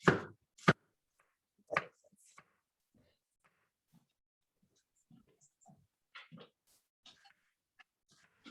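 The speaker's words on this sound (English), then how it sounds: "I want a tiny dice to just slice the pepper very thin" A knife slices and dices a pepper on a cutting board, giving a few sharp chops at the start and then sparse, quiet taps and cuts spaced irregularly, close and with nothing else behind them.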